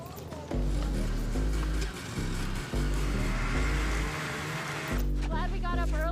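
Rotax MAX kart engines rev at a Grand Finals race event, loud buzzing two-stroke engine notes rising and dropping in repeated blips under a talking voice.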